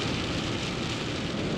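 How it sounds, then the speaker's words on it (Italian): Rain falls steadily as a dense, even hiss with soft patter, loud and close throughout, in a desert under clearing skies after a sudden cold spell, with no voices. "Ancora un po' piove, però c'è già il cielo aperto."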